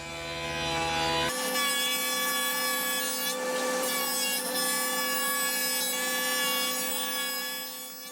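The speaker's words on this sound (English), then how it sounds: "So whenever I'm making these cuts, I use the setup blocks to set that Dado groove 3/8 of an inch deep" A power saw cutting dado grooves 3/8 inch deep in plywood for a buffet cabinet, starting with a hum and then a loud, steady whining roar as the blade bites through the wood, with no talk.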